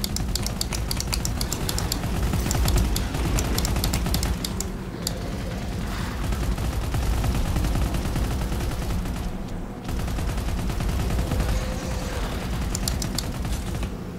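Rapid automatic fire from a demonic AK rifle in the zombie shooter Hellbreach: Vegas, dense continuous bursts of loud gunshots with brief pauses, layered with impacts and game effects.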